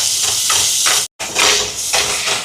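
Tomatoes and onions sizzle in a clay pot over a wood stove, a steady close hiss with gentle stirring swells and one brief break partway through.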